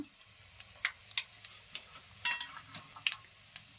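Mustard-type tempering seeds and cumin crackling in hot oil, scattered sharp pops and ticks over a soft, quiet sizzle, close by.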